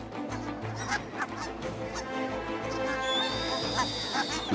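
Geese in the Arctic tundra chase off eagle owls, honking repeatedly and loudly at close range in a noisy, overlapping chorus with brief calls and a steady outdoor background.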